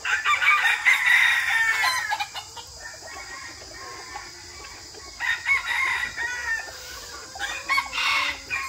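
Roosters crow loudly several times over a background of chickens clucking, with a steady high insect-like hiss throughout, during a rainy spell.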